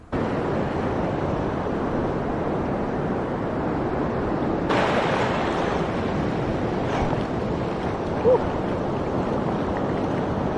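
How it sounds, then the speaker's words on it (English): Big ocean waves rolling onto a beach in El Salvador, a steady close roar of surf with wind rumble throughout, one surge building midway, no voices. "Yeah, they really do got some big waves out here."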